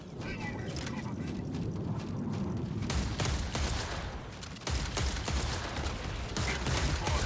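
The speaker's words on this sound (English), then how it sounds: "Incoming fire." Video game battle with dense, continuous rapid gunfire and explosive bursts, loud throughout with brief lulls, as voices call out over the shooting.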